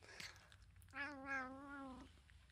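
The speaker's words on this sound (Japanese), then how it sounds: "猫さんです" A single drawn-out meow from a cat, lasting about a second and rising then falling in pitch, heard close up against a quiet room with faint rustling before it.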